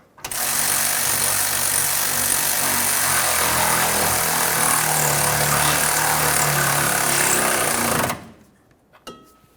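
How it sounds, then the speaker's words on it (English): A power tool, likely an impact wrench, whirs steadily and loudly for about eight seconds while it snugs the upper bolt of a sway bar end link on a Ford Explorer Sport Trac, then stops abruptly. "Let's go ahead and snug that upper bolt."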